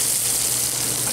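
Wild prawns searing in a hot pan, a short burst of dense, steady sizzling hiss heard up close.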